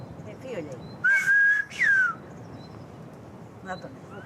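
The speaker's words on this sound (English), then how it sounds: "I was just whistling." A person whistles two sustained, rising notes outdoors on a Greek island, loud and close, with soft ambient noise and faint voices around them.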